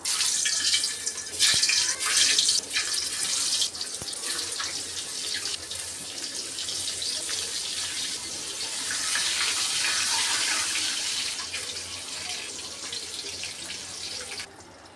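Eggs frying in a wok of oil with a little turmeric, giving a steady, close hiss and sizzle throughout with occasional crackles, no voices.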